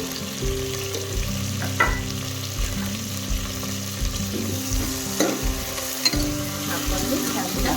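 Onion sizzles loudly in a pan for urad dal palya, with a dense, steady hiss broken by repeated scraping and clattering stirs of a spoon against the pan.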